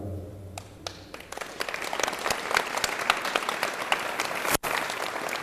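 An audience in a school district address hall claps, starting with a few scattered claps that swell into dense, steady applause, briefly cutting out near the end before resuming, with no talking.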